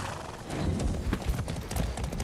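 A horse in Far Cry 6 clip-clops steadily across the ground, its hoofbeats close and fairly loud over a dense, rumbling background, with what may be a brief whinny mixed in; no one speaks.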